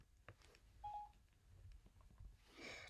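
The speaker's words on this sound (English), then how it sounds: "Just ignore that, that's my phone." A phone sounds a short electronic tone, a brief steady beep like a dialing note, low in level amid quiet room noise with no talk.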